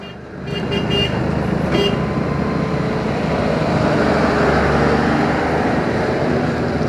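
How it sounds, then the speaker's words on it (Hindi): Dense, jammed road traffic on a village route, with a continuous loud rumble of engines and a few brief horn toots near the start. Voices are barely present. "तो बहुत ज़्यादा ट्रैफिक है,"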